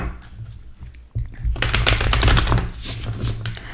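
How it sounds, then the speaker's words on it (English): Tarot cards being shuffled up close: soft handling at first, then a loud, dense run of riffling flutter with a low rumble under it. "I'm just shuffling the cards before we start."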